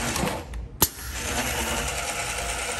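An extended, specially ordered trigger capping machine runs with a rapid, even mechanical chatter and one sharp clack near the start, close and fairly loud, with no speech.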